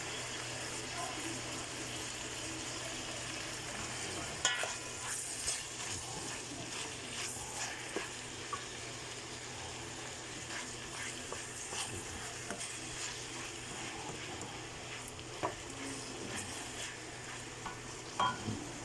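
Pechay greens with ground round in oyster sauce and sesame oil cook in a pan with a low, continuous sizzle and bubbling. Intermittent scraping and stirring clatter sits close by throughout.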